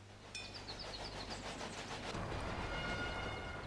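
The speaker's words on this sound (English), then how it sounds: "What train is this?" Train running in the railway strategy game Railway Empire, a soft rumbling rail roll with a brief high whistle-like chime near the start, growing slightly fuller and noisier toward the end.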